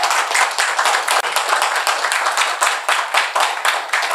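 A church congregation claps together to acclaim the Lord, a loud, steady, fairly rhythmic crowd of hands filling the room with no talking over it.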